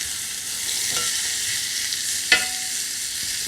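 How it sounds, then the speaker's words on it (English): Lamb sizzles steadily in a hot skillet after being flipped and pressed flat, a soft continuous frying hiss with a sharper scrape or press sound partway through. "Just flip it over, press it down flat onto the skillet"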